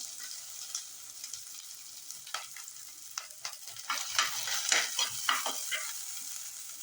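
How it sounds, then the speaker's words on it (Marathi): Onion frying in oil with roasted coconut for a vegetable kurma, stirred with a spatula in a pan; soft continuous sizzle with a run of scraping, clattering stir strokes that grow busier and louder toward the end. "खोबरं चांगलं भाजल्यानंतर याच्यात कांदा चांगला फ्राय करून घेऊया."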